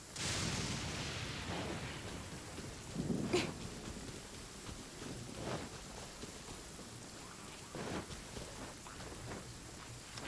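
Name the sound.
rain in a video game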